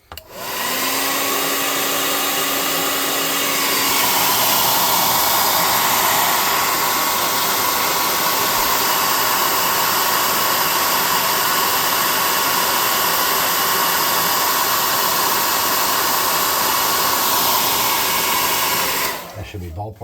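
A hair dryer blows steadily and loudly for a long stretch while drying a glued cloth banner, with a constant whooshing roar that shifts slightly in pitch before cutting off at the end.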